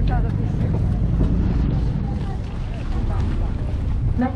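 A loud, steady low rumble of a sightseeing cruise boat's engine at Matsushima, with wind buffeting the microphone, while people talk faintly underneath.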